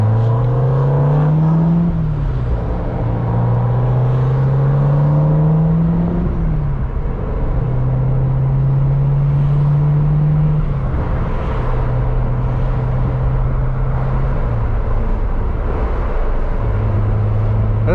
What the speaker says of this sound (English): I cannot believe I'm driving a freaking C7 Z06.